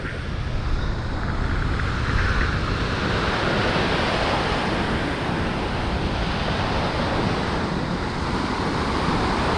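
Storm surf pounds Ordzhonikidze beach in Crimea, a dense, continuous roar of crashing waves with gusty wind, loud and unbroken throughout, with no voices.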